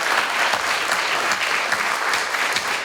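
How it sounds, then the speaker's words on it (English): Audience at a National Elementary Honor Society induction ceremony applauding the new members, a steady, full round of clapping from many hands with a few sharper claps standing out, no talking. "Give them another round of applause"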